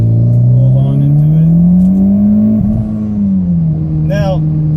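A 2014 Mitsubishi Evo MR downshifts and accelerates, its engine note climbing steadily in a loud close drone, dipping briefly at the gear change, then settling as the car rolls on.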